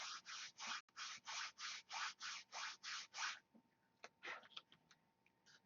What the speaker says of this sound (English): I'm sanding an airfoil into this rudder and breaking it while I'm doing it